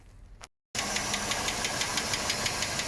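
A 1987 Mercedes W126 560 SEL V8 starts after a brief silence and idles loudly nearby with a fast, even ticking knock running steadily through the engine note; no one speaks.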